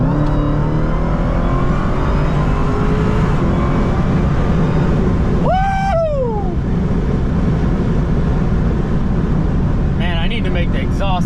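A Dodge SRT Demon 170 engine revs through its exhaust, with a steady loud drone and one sharp rising rev sweep in the middle, followed by a brief rattling burst near the end.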